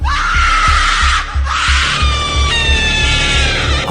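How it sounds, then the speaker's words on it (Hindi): A woman screams as a sound effect in a haunted-temple horror story, a loud sustained wail over a deep, throbbing heartbeat-like pulse and droning backing music. "अंजलि चिल्लाने लगी,"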